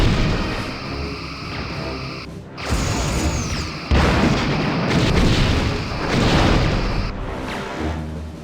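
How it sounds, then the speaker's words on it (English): Starship weapons fire in Star Trek Bridge Commander during a battle with Klingons: repeated loud bursts of phaser discharge and booming impacts come in several waves, with a whining sweep early on and a mechanical hum beneath. "Sweeping through phaser arcs."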